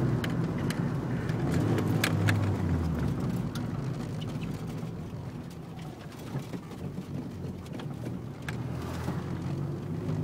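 A Nissan 240SX drives along a winding rural road, its engine and tire rumble steady and fairly loud from inside the cabin, with a constant low roar and occasional faint clicks and rattles.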